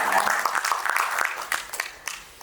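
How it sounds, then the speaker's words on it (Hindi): An audience at a Hindi book launch ceremony breaks into applause, dense clapping that starts strong and then thins out into scattered claps. "जोरदार तालियों के साथ शुभकामनाएं दी जाए।"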